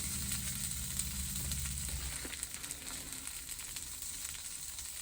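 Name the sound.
tortilla cooking in a pan for a quesadilla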